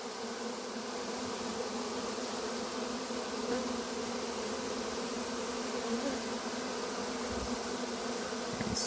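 A large honeybee swarm buzzing outdoors, a dense, even, loud drone with no breaks, close by and holding steady throughout, with no talking.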